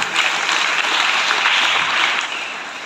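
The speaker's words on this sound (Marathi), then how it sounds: "अशा प्रकारच्या शुभेच्छा आपण सर्वांनी टाळ्या वाजवून" An audience claps steadily and densely at a school event where students receive notebooks, the applause honoring Ramsheth Thakur and tapering off near the end.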